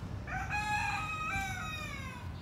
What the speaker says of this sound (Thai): เลี้ยงไก่ไว้ด้วยนะครับผม